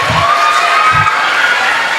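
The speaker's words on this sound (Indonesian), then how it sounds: "Kasih tepuk tangan sekali lagi" An audience of Islamic boarding-school students at a religious lecture claps and cheers in a brief, loud burst, with a few low thumps near the start.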